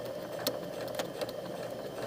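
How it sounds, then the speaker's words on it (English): A sewing machine stitching in the crease of a double welt pocket, a close, low steady hum with a few soft clicks and taps, fairly quiet throughout. "Now I get in here and I sew exactly in that little crease."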